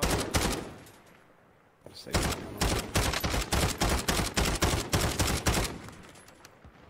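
Rapid SMG gunfire in Call of Duty Warzone, loud close bursts of automatic shots, a short burst, a pause, then a long sustained rattle of fire, with a brief spoken word.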